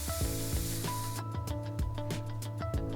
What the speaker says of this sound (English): Release the pressure out of the brewery.